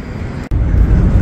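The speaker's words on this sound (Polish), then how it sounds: "Zwiedzam lotnisko w Zurychu." Ambience at Zurich airport, with aircraft giving a steady, dense low roar throughout and a momentary dropout partway through.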